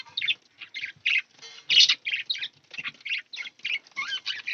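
Pet budgies chirp rapidly while eating cucumber and apple, a steady stream of short, bright tweets and squawks close by, with no talking.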